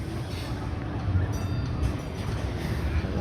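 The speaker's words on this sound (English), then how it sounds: "we are stopped by a train again" A train rolls past an amusement park's roller coaster area, a steady close low rumble with faint clanking holding evenly for about three seconds.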